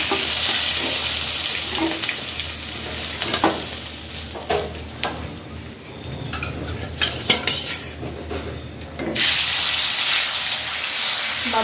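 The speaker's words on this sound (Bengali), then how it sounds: "বাকি মাছটা ভেজে নেব" Steady hiss of pabda fish frying in hot oil, with metal utensils clinking and scraping against the pan in several brief taps; no talking.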